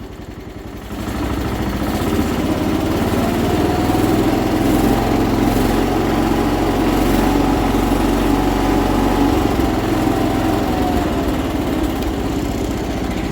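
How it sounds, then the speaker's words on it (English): A John Deere 210 lawn tractor engine jumps up about a second in and then holds a loud, steady, buzzing run close by, with only slight wavering in pitch. "So let's see if it'll throttle up."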